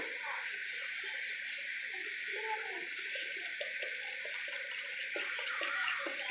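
A steady stream of water runs into a pot of rice and split moong dal, a constant splashing rush with small clinks, and a person speaks over it.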